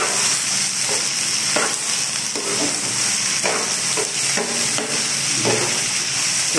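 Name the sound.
chili peppers frying in a pan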